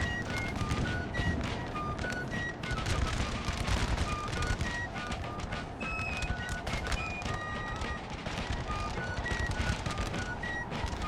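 Dense, continuous rolling volleys of infantry musket fire in a Napoleon Total War American Civil War mod battle at New Market, crackling steadily with distant booms and faint whistles, no voices over it.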